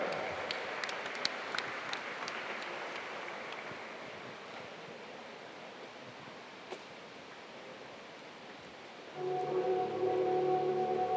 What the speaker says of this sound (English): Please give another round of applause to Peter Deans from Otago.